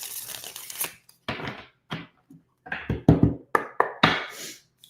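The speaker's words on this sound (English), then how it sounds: "One more shuffle, Taurus. One more shuffle." Tarot cards are shuffled in a series of crisp riffling and flicking bursts, close and fairly loud, with no speech.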